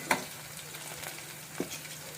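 Quiet sizzling of onions and seeds frying in a pan, with a couple of soft utensil taps against the pan.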